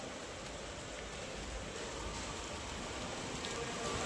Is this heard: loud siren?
no